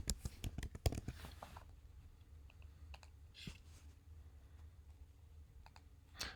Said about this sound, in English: maybe I'll just type it in full